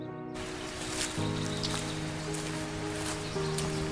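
Spring rain falls steadily in a mountain forest in Turkey, a dense, even patter of drops continuing under sustained music.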